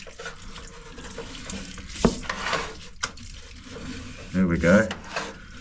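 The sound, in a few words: water flowing through unblocked drain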